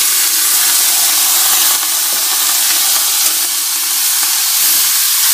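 Chopped spinach hits potatoes frying in a kadhai for palak aalu posto, giving a steady, loud broadband sizzle and hiss that holds evenly throughout with no talking.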